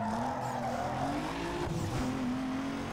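A sustained tire squeal and skid from a street car as the handbrake is pulled in Need for Speed Underground 2, with the engine droning steadily underneath, loud and continuous, no talking.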